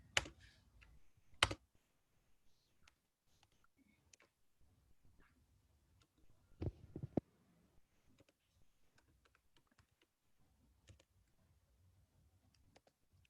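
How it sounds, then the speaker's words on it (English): Faint computer keyboard typing comes in scattered bursts of clicks and taps, with a couple of sharper knocks, in a quiet room. "Are you still typing?"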